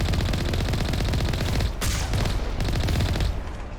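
Sniper gunfire in the video game Mass Effect Legendary Edition crackles in dense, rapid bursts of shots with a sharp crack near the middle, loud and continuous for a few seconds without talk.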